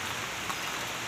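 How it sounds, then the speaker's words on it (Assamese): Steady rain pours down outside a rural home in a storm, falling on a newly earthed courtyard and a bamboo gate, an even, continuous hiss with no voices. "এয়া বৰষুণ পৰিয়ে আছে"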